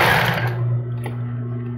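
Straight-stitch sewing machine running a short backstitch across a double-strand thong panty seam, a steady close motor hum and needle whir that drops off and eases to idle, with no talking.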